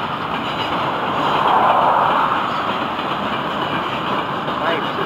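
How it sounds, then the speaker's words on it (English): Train FEC101 passing at medium speed, a loud, close, continuous rumble of rolling wheels and rail noise that swells slightly midway and holds steady to the end. "Nice to see this train"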